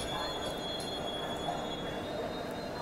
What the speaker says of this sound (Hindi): सामने कोई ट्रेन डिपार्चर ले रही है